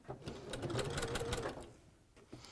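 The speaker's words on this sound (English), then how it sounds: "the last step that I do is a 1/2 inch stitch all the way around the perimeter of the quilt" A sewing machine runs a half-inch stitch around the perimeter of a quilt, a fast, even mechanical chatter close by that slows and stops near the end, with no talking.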